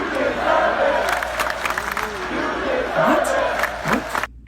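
A wrestling crowd at a Raw broadcast the night after WrestleMania chants in unison, a loud, roaring mass of voices with rising and falling shouted cadences that swell and then cut off abruptly.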